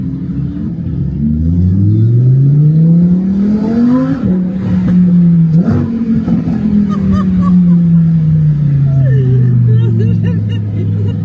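A supercar's engine revs hard in a city street in France, its loud rising and falling drone sweeping up in pitch twice before settling into a long, steady decline, with voices talking over it.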